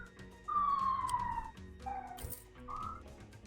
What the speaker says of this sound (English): That's why the police cars outside are so loud.